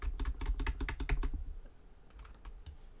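Quick bursts of keystrokes on a computer keyboard while editing ad text, close and clear at first, then a few sparse taps trailing off.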